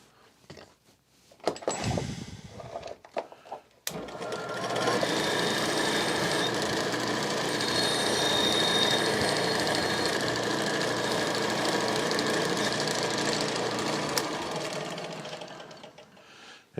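Motor-driven wavy buffing wheel polishing a used golf club head: after a few scrapes and handling knocks, a steady loud whirring hum with rough grinding texture runs continuously for about twelve seconds, then fades as the wheel winds down.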